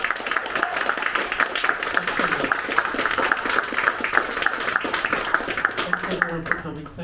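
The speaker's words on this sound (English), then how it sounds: "I hope you all give Steve a big round of applause" A bookshop audience at an evening author talk bursts into dense, steady applause, many hands clapping together at close range for about seven seconds before it thins out at the very end.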